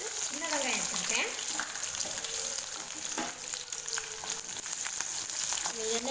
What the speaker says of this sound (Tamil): எண்ணெயில் லேசாக வதக்கி விடுங்க